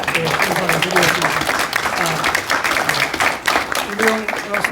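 A seminar audience at a peace and unification event in a Seoul hall gives a sustained round of welcoming applause for an arriving guest, dense and steady clapping with a few murmuring voices mixed in.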